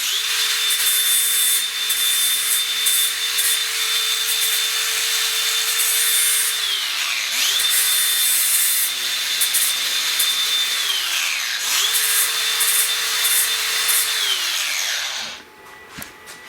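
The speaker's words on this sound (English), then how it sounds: "Cut it off kind of flatter and grind it" A power grinder works down solder on a brake line during a disc brake conversion, with a loud, continuous abrasive whine and three brief dips as it is eased off before stopping abruptly.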